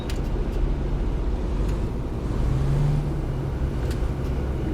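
A refrigerated trailer's reefer unit runs in American Truck Simulator, a steady droning hum over the truck's low engine rumble, continuous and fairly loud with no talking.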